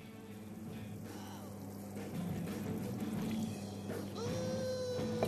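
A little water is poured into a cooking pot holding greens and octopus, a gurgling, rising pour heard close up over a steady low background hum.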